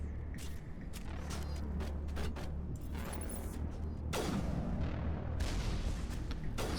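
Gunfire in the video game Mass Effect, a Krogan fighting alongside Geth: repeated sharp shots and heavier booming blasts in steady bursts, loud and close over a low rumbling battle backdrop, with no talking.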